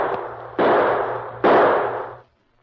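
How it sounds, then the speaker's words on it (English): Two gunshots ring out about a second apart in an old western radio drama, each a sharp crack followed by a long, broad decaying echo. A faint earlier tap precedes them, and there is no talk. "Maybe if I shoot again."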